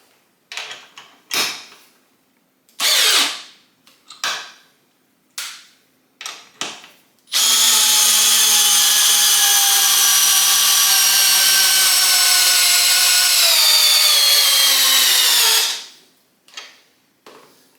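A Metabo compact drill on high with a 2 amp hour battery drives a quarter-inch by 4.5 inch lag bolt: several short bursts of whirring, then one long loud steady run of about eight seconds that slows and stops, followed by brief clicks.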